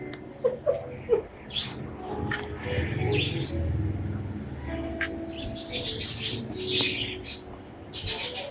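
Birds chirping with pigeon-like cooing in the background, scattered short tweets and calls with a low murmuring coo, fairly faint and irregular, alone without talk.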